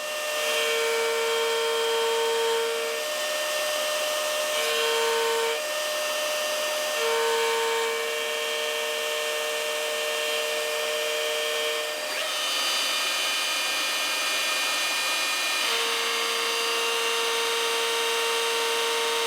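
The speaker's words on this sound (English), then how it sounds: "we'll just go ahead and start to route out the lip for our cavities" A router cuts the lip for the cavities in a custom Strat guitar body, giving a loud, steady, close whine with tones that shift and drop out briefly. A hair dryer runs in the background, and no one speaks.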